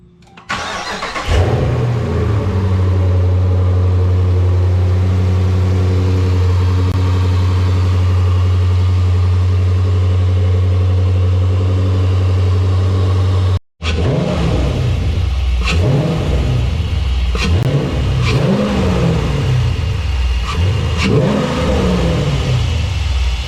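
A car engine fitted with a cleaned cold air intake and no housing starts, then holds a loud steady rev, cuts briefly, and surges through several throaty revs up and down, close and alone.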